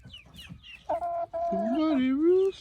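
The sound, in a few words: rooster clucking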